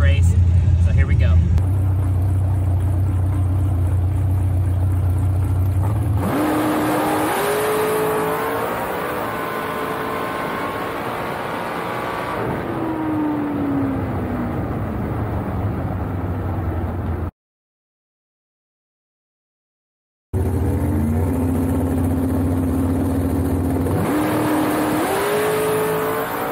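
Drag racing car in a bracket race, roaring loud and close through repeated hard launches with rising engine revs and gear changes, broken by a short silent gap before another run starts.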